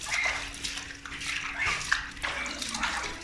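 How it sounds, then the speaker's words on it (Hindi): Water splashes and sloshes as it is poured into a duck house for pet ducks. The splashing is steady, close and continuous, with some quieter voices in the background. "पानी डाल रहे हो"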